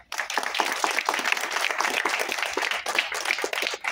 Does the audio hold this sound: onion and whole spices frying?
no